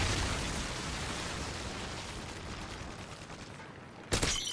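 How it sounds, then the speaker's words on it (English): Sustained heavy rumble of a Predator missile strike in a military video game, a loud roaring explosion that slowly fades, then cut off by a brief sharp burst of sound at the very end. "Friendly Predator missile inbound."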